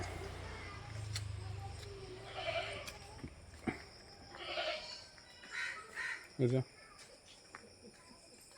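Goats on a farm bleat in short, separate cries spread across the moment, some nearer and louder, over a steady hiss of insects and faint background voices.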